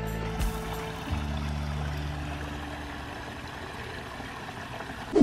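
Water pours down a small waterfall into a plant-filtered swimming pond, a steady broadband rush with low hum, fairly close and continuous with no talk.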